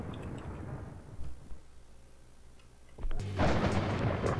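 Low rumbling thunder rolls in the distance, fading briefly before a louder crackling boom swells near the end, with no talk.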